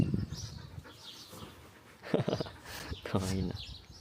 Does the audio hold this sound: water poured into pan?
no